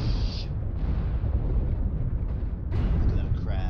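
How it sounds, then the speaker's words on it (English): Incoming missile impact in the mech combat game MechWarrior Online, a loud, continuous rumbling blast with roaring low-end booms and debris-like crackle throughout. "Warning incoming missile."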